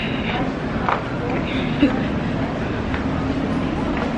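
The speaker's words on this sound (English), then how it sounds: "How many of these tour trucks do they, or tour trains do they have?" A tour train rolls past on a street in St. Augustine, Florida, a steady rumble and clatter running through the whole stretch with people talking over it.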